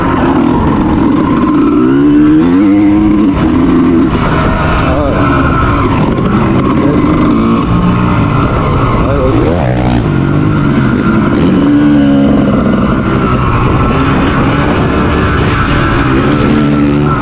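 A motorcycle engine, running again after at least 20 years unused and being broken in, runs continuously and loudly nearby, its tone wavering and uneven, with a rough, sputtering quality throughout.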